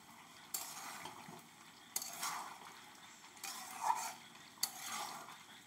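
Hand-mixed village-style chicken curry being stirred and sautéed in a pan, heard as faint, soft scraping strokes at a slow repeating pace over a low sizzle, with no voices.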